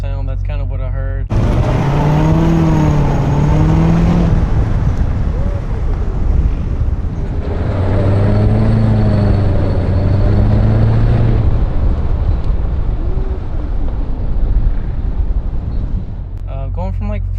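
A C7 Corvette accelerating from first into second gear with an abnormal mechanical noise: loud engine drone with rising and falling pitch sweeps, a brief lull near the shift, then a second strong pull, with wind buffeting and occasional talk.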